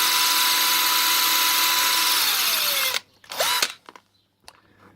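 A power drill with a worn bit drilling into a lock whines steadily and loudly for about three seconds, then cuts off, followed by a few short bursts and clicks as it spins down.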